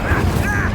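Incendio fire spell cast in a Hogwarts Legacy battle, a short burst of magical fire with a whooshing mechanical rumble, dense game effects around it.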